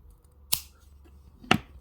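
Wire being cut for a wire-wrapped bail in jewelry making, two sharp isolated snips about a second apart, close and clear against a quiet background.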